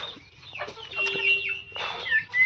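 Chickens newly brought from Jagtial cluck inside a poultry shed, with a few close, irregular bursts and squawks over a low steady hum, and no talk.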